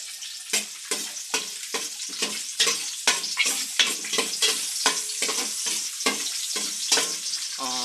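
Garlic fries in a pan with chicken liver and gizzard, crackling sizzle broken by a rapid series of sharp stirring and scraping strokes, close and fairly loud.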